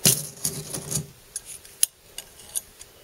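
Metallic clinks and scrapes as a pile of rusty scissors is handled, a cluster of sharp clatters at first, then sparse, scattered taps close by with no talking.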